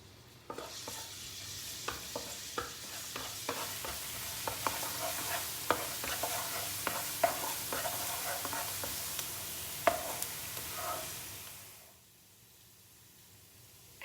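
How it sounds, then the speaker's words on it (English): Chopped garlic fries and sizzles steadily in hot oil in a pan for a stir-fry of black pepper sausage, with a broad hiss, frequent sharp stirring clicks and scrapes, and the sizzle dropping away near the end. "I'm going to heating up the oil. And fry the chopped garlic"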